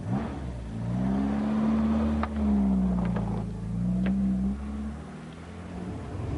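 A Triumph Dolomite car engine while driving, a steady droning hum that rises and falls with the revs, heard from inside the car, continuous and moderately loud with a few faint clicks, no talking.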